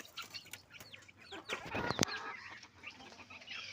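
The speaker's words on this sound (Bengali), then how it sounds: "আর কিছু ছোট মুরগি আছে এই" Small chickens clucking in a backyard poultry flock at feeding time with rice scattered, several short calls and a sharper squawk near the middle, with light rustling and wing flaps around them.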